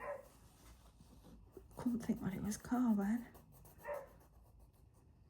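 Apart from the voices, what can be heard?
dog barking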